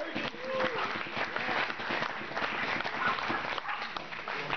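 An audience at a harm reduction dinner applauds, a soft, continuous wash of clapping heard from a distance for several seconds, with talk running under it.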